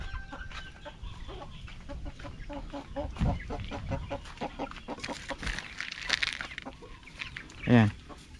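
Free-range kabir rooster and chickens cluck and chatter steadily at a moderate distance, with one louder squawk near the end and faint talk underneath.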